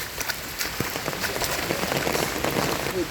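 Steady rain falls on a flooded rural road in Raipur, Lakshmipur, a continuous dense patter with scattered louder drops and no voices.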